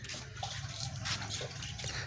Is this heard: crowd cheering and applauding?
no